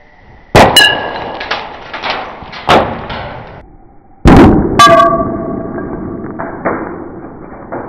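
A fake Invictus Aqua cologne bottle smashed against a hard surface, two loud sharp impacts with ringing glassy clangs and clattering shards, each trailing off into a fading metallic ring.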